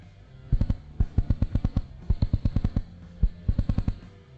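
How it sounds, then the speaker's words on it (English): Spark plug on a FiTech ignition-timing setup firing at cranking speed, snapping out rapid bursts of sharp ticking sparks in short clustered groups with brief gaps between them, close and fairly loud with no talk. "You can hear that with this spark plug right now."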